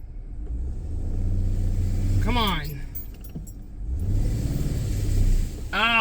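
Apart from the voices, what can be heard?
vehicle engine revving while trying to move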